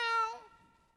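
A child's or adult's voice imitates a cat's meow during a Sunday school service, one drawn-out nasal meow that falls in pitch and fades away, heard alone and fairly close.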